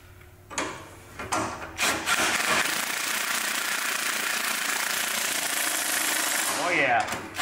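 A power tool drives and tightens bolts on a Husqvarna frame, a loud close buzzing rattle that starts in short bursts and then runs continuously for several seconds before stopping.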